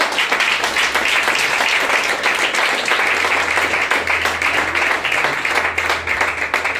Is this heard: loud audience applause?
yes